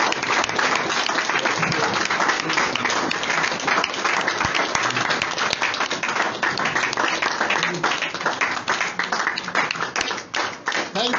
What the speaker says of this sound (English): Rise up and clap for leader.